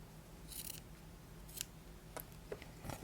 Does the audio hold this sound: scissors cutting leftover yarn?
yes